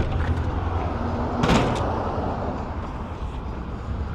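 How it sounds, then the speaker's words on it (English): Front door being shut and locked at night before heading out, a soft sliding rattle followed by a sharp metallic latch click near the middle, close and clear over low background hum. "Before I lock my door"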